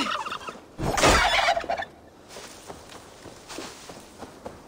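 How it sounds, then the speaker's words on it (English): Wild turkeys in Assassin's Creed Valhalla give one loud burst of gobbling followed by a few faint clucks and footstep-like taps, with quiet game ambience throughout. "Turkeys."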